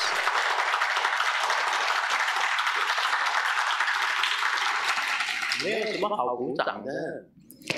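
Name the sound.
audience applause at a Buddhist dharma talk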